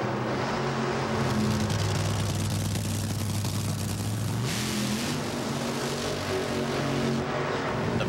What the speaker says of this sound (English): Burnouts of Morgan Lucas in the left lane